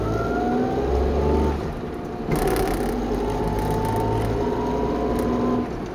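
A Suzuki Fronte 550 SS40 with a four-speed manual, its engine idling fast at about 2000 rpm on auto choke shortly after a cold start: a steady, continuous engine hum with a small dip in level partway through, no talk over it.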